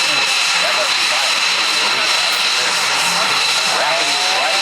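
F-22 Raptor jet engines roar loudly and steadily at an airshow, a constant broadband rush with a high whine on top.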